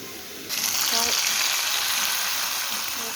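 Onion sizzles in hot oil in a pan while a lentil and bottle gourd dish is cooked; a steady, loud broadband hiss swells abruptly after a quiet start and holds continuously, with no talking.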